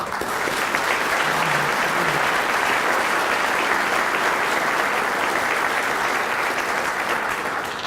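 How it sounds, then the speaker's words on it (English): A crowd at a retirement ceremony claps steadily and loudly for several seconds, a dense, even wash of applause with no voices standing out. "Ladies and gentlemen, please give a round of applause."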